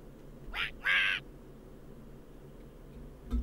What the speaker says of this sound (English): I'm not calling your talking duck Maximilian.